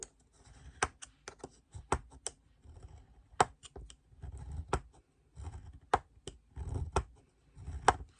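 Paper creases pressed and scored for a handmade Christmas mini mailbox: irregular sharp taps and scraping strokes close up, coming in short bursts with pauses between, and no talking.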